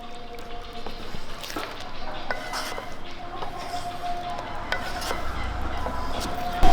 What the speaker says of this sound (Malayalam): നമുക്കിതെല്ലാം ഒന്ന് ഇളക്കി ഒന്ന് മിക്സ് ചെയ്യാം